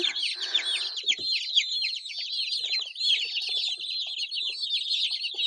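A flock of sick 45-day-old chickens peeping constantly in shrill, overlapping cheeps, close and loud, with a brief low rustle near the start.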